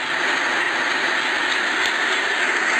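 Steady drone of an Alco diesel locomotive engine in Trainz Simulator, a continuous broadband rumble and hiss at an even level with no pauses, heard alone.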